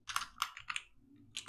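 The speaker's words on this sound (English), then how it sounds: "So I will simply type" Fingers tap out four or five quick, crisp keystrokes on a computer keyboard, close and clear in a quiet room.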